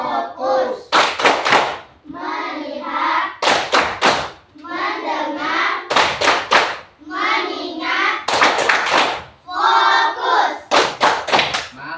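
A school class claps out rhythmic focus-clap patterns together, sharp bursts of three or four claps alternating with the children chanting in unison, repeated steadily and close throughout.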